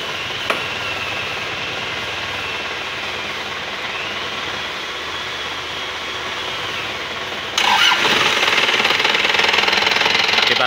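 Isuzu Panther Touring 2001 diesel engine idling roughly, a dense, steady rattling clatter that grows louder and harsher near the end, heard close with no talk.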